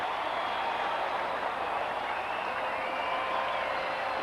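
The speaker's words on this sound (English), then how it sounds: "Cheering on their hometown Giants." A packed stadium of 42,520 baseball fans at a 2003 Phillies vs Giants game applauds and cheers for the hometown Giants, a steady dense roar of clapping heard from a distance with no talk.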